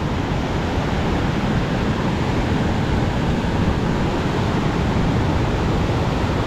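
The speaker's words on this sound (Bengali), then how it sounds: "কোথা থেকে জল আসছে হয় পাথরের আঘাতে কি সুন্দর মিউজিক তৈরি হচ্ছে বাহ একদম সুন্দর উদ্যম ঝর্ণা" Waterfall on the Damodar river in Jharkhand, water crashing onto rocks: a dense, unbroken roar of falling water, loud and even from start to finish with no voices.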